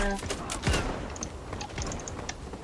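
Gunfire in the Zula online shooter game, a rapid burst of pistol shots with sharp cracks and clattery tail, followed by a few scattered quieter shots near the end.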